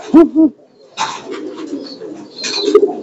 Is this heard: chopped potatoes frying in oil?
no